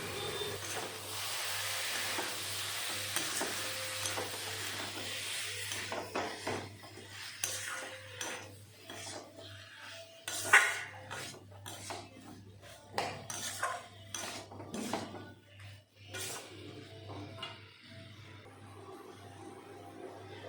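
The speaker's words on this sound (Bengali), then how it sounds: "কষানো হয়ে গেল তারপরে দিয়ে দিলাম গ্রিন মটর" Green peas being stir-fried in a pan for mutter paneer, a spoon scraping and clinking against the metal in irregular strokes, fairly faint over a low steady hum, no talk.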